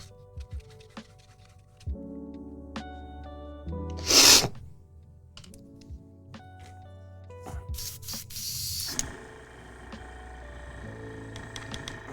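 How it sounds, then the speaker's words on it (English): An airbrush spraying paint gives two short hissing bursts, one near the four-second mark and a longer one around eight to nine seconds, over quiet background hum and faint clicks. "now the airbrush control is going to be super important"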